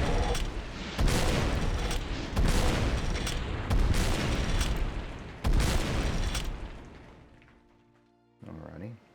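Rocket blasts from the video game Doom with a custom weapons pack boom out in repeated heavy bursts, about four loud explosions a second or so apart, then a quieter tail as the action settles.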